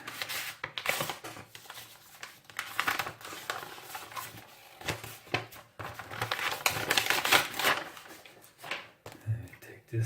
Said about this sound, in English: Take this out of the package here.